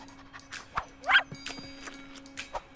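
A hungry dog in a cartoon gives a short yelping bark amid soft scattered sounds in a quiet scene.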